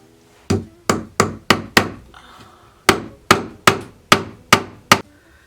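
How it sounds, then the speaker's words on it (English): A hammer drives a big nail into closet door trim in two close, sharp runs of blows, four quick strikes, a short pause, then six more evenly paced hits, with no talking. "just put a big nail right here to hold it."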